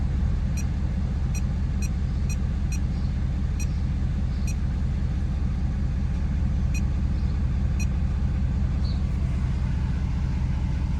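A Ford 6.7 Powerstroke diesel engine runs steadily: a continuous, close, low rumble with faint, regularly spaced high ticks on top and no talking.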